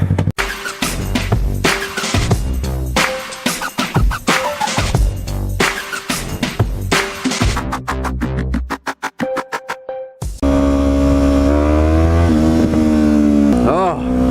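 A Yamaha R3 motorcycle ridden on a cold morning, its engine droning and revving in changing pitches under steady talking, then settling into a smoother sustained tone near the end.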